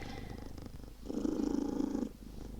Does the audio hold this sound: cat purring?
yes